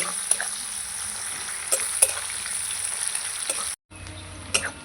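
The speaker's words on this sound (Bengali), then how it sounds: "আমি পেঁয়াজটা আমি লাল লাল করে ভেজে নিয়েছি" Onions frying in a pan until reddish-brown for a soybean curry, a steady close sizzle with a few sharp crackles and scrapes and one brief dropout near the end.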